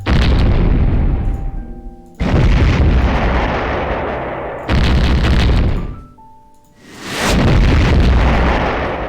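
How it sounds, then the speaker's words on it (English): Three loud, booming explosion sound effects from RPG Maker XP go off one after another, each a heavy blast with a long rumbling decay before the next hits. "so we have explosion sounds here."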